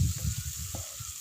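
Tomatoes and spices cooking down in a pan for capsicum and potato curry, a short burst of soft bubbling sizzle with low stirring thuds, quiet and close.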